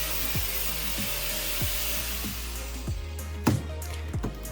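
The rough, uneven end of a toilet drain pipe is filed smooth before a two-piece toilet goes in, producing regular rasping strokes roughly every half second over a steady background hum, close and moderately loud.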